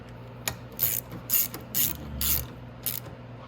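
Ratchet wrench tightening the last bolts on the stator cover of a Venom X22 125cc motorcycle, a series of short sharp clicking bursts, about six in a row with small gaps between, close and clear with no talk.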